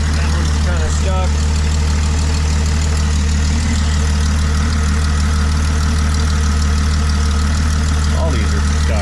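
A 1995 Jeep Wrangler's 4.0 engine idles steadily and loudly throughout, a constant low rumble with faint ticking, while someone talks over it during an injector test.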